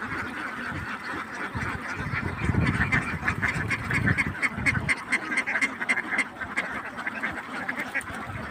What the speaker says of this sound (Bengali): এটা হলো আমার দাদার হাঁসের খামার।